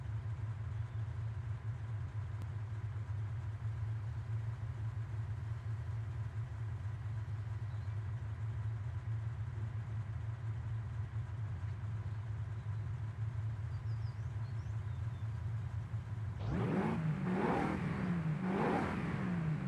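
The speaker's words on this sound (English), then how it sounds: "What is this, a 7-litre V8?" A V8 car engine in a racing video game, idling with a steady low drone for a long stretch, then revving up sharply near the end in a couple of loud rising surges.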